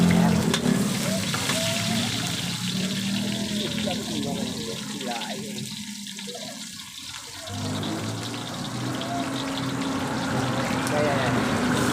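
Chopped onion dropped into a pan of hot oil with garlic for bopis, a steady close frying sizzle that dips slightly midway and picks up again, with a voice speaking over it.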